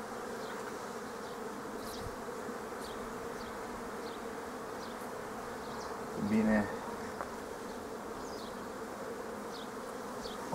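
Honey bees buzz steadily around an open hive while colonies are split into swarms, a continuous close insect drone with brief faint sounds mixed in.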